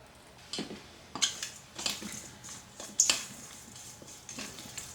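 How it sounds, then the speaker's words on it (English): A spoon stirring garlic powder and onion powder into potatoes in a dish: a few soft scrapes and light clinks at irregular intervals, close but quiet, with no talking. "Stir that in the potatoes very well."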